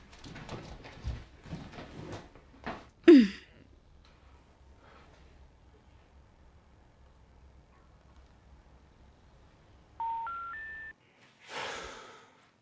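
Three rising electronic tones sound in quick succession, like keypad beeps, after a stretch of quiet breathing and rustling, with a short whoosh at the end.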